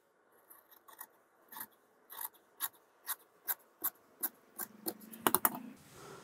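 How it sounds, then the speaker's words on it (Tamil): Scissors cutting the sleeve of a shirt pattern, a steady run of about a dozen crisp, close snips, quiet and evenly spaced, speeding into a quick cluster near the end. "இப்போ கையை கட் பண்ணிடலாம்"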